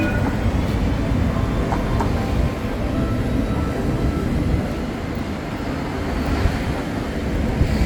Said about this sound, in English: Goes the tram.